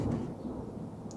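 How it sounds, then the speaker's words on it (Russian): Thunder from a storm rumbles low and steady for about a second, a continuous muffled roll with no voices over it. "Это не я чихаю, это гром гремит."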